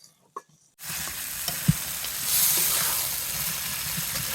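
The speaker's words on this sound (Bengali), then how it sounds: "এবার তেলে দিয়ে দিলাম, দিয়ে ভেজে নেবো।" Chicken liver dropped into hot oil and stirred, with a sudden loud sizzle bursting in after a quiet start and a single utensil knock, then a steady, close frying hiss.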